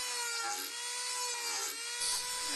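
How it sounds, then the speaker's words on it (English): A Dremel sanding tool shapes an oak mast step for a model Viking ship, giving a steady, close, high-pitched whine with a faint scraping edge and a slight lift near the end. "I shaped the mast step using the Dremel sanding tool."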